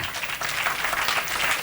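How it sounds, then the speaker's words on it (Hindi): Brief burst of audience clapping at a Hindi kavi sammelan poetry recital, a dense, moderately loud patter of many hands with no voices over it. "एक बार तालियां बजा दीजिए।"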